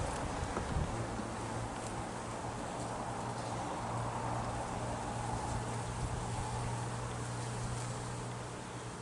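Honey bees swarm over an opened hive in a bee yard during an early-March inspection, a dense, steady buzzing drone that fills the whole stretch, with a low hum running underneath.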